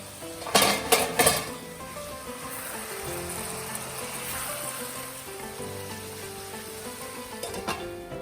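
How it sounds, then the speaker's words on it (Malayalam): Chopped onions sautéing with cinnamon, cloves and cardamom in a pan for Malaysian biryani, opening with a few loud metallic clanks of a spoon against the pot, then a steady close sizzle and stirring. "ഇതിലേക്ക് നമ്മൾ ബാക്കി വന്നിട്ടുള്ള സവാള കട്ട് ചെയ്തതും കൂടെ ചേർത്തിട്ട് നന്നായിട്ടൊന്ന് വഴറ്റിയെടുക്കുകയാണ്"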